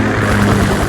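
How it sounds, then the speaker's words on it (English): Russian military helicopters in the video game Metal Gear Solid 2, a loud steady rotor drone filling the whole second with no speech. "Russian choppers."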